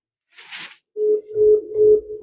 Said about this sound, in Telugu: లైన్ బిజీ అని వస్తుంది అన్న.